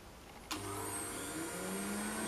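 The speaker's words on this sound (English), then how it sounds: "See, now it's turning. Also the vacuum right away goes." A Podomonium Duster professional podiatry nail drill with built-in vacuum starts up, giving a steady close whirring hum and a rising motor whine that holds at a constant pitch.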